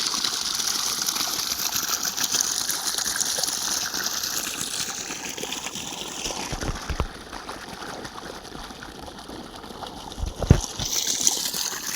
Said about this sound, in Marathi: एकाच मधून दोन मोटरांचं पाणी येतं आहे